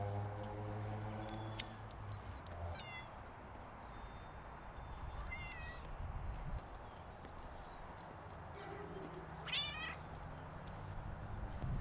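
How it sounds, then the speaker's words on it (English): A cat meows a few times, faint and distant, over a steady background hum with some soft clopping and shuffling. "Cat."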